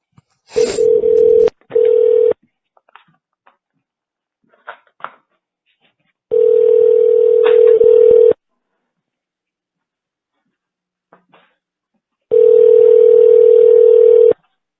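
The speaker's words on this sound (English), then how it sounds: "let's play the first recorded phone call" A recorded phone call gives loud, steady telephone tones in long separated bursts of about two seconds, with short tone blips and clicks between and near silence in the gaps.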